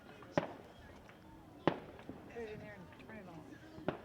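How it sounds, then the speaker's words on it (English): Fireworks bursting at an evening minor-league baseball game in Goddard, a few sharp booms spaced a second or more apart, somewhat distant, with crowd noise and a play-by-play voice talking between them. "And you hear the fireworks exploding in the background."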